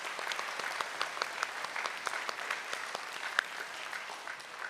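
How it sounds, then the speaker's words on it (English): An audience at a school band and orchestra orientation applauds high school musicians, steady clapping with sharp individual claps, moderately distant and continuous throughout. "Another round of applause for them and for the Troy High musicians who played for you."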